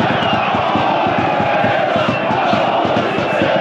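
Football ultras of the Torcida Sandžak in Novi Pazar roar and chant as a dense stadium crowd after an away player's red card, loud and continuous, a rhythmic pulsing chant throughout.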